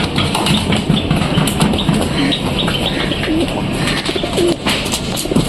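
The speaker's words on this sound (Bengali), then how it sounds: "তো বন্ধুরা দেখো পায়রা" Pigeons coo in low, repeated murmurs near a rooftop, with soft calls and occasional wing flutters over a busy, steady outdoor background.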